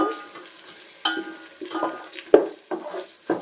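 Chopped onions and green chillies frying in hot oil in a pan for prawn biryani, with bursts of sizzling and the scrape and clatter of stirring coming in several close, uneven pulses.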